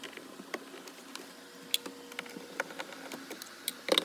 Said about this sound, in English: we have two Phillips head screws that we're gonna take out